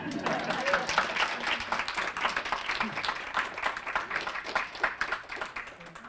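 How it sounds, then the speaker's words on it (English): Audience applause at the close of a photographer's talk, a steady wash of clapping from a seated crowd at moderate distance, tapering slightly toward the end. "oh, you can clap."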